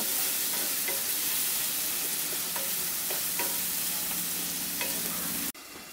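Spice paste with a splash of water sizzles and spatters steadily in a pan for Bengali potato dal, with scattered scraping stirs of a spatula, then the sizzle drops to a quieter hiss near the end.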